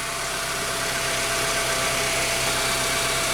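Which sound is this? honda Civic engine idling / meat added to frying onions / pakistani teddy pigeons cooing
honda Civic engine idling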